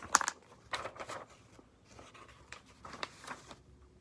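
Several short crisp snips of paper being cut, quiet and close, in irregular bursts with pauses between them.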